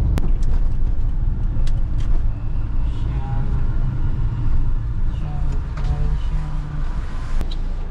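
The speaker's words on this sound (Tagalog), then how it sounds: "Diyan natin niya malaman sa akyatan kung kaya ba niya umakyat ng mataas na ahunan." A mini van's engine drones steadily while climbing a steep uphill road, heard from inside with continuous road and motor rumble and occasional small clicks and knocks.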